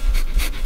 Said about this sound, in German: Die Verstärkung kommt mit einem Hund. Mit einem schwarzen Hund.